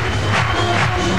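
Crowd cheering at the 2004 Swatch FIVB Grand Slam beach volleyball final in Berlin, a steady loud roar of applause and voices with no break.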